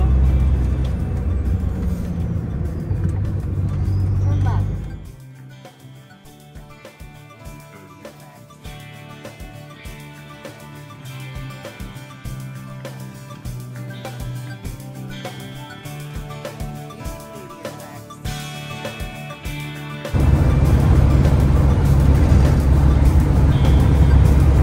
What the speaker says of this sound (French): Voici à Hambourg dans les embouteillages.